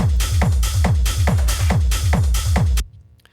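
Techno percussion loop of congas, timbales and shakers: punchy pitched drum hits in a tight repeating pattern with a hissing shaker layer, loud and upfront, stopping abruptly near the end into a faint tail.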